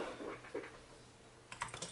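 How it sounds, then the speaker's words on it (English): Typing on an i-rocks KR-6260-BK gaming keyboard, a quiet spatter of key presses that starts faintly and turns into a quick burst of several clicks at the end. "So let me type something real quick."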